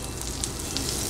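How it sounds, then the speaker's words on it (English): Butter sizzles steadily in a heated pressure cooker, a loud, close, continuous hiss with small spitting pops and no voices. "Now I am going to add just 3 spoon of butter."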